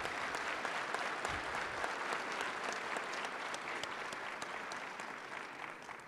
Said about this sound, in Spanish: Demos un aplauso al maestro Adrián Alcalá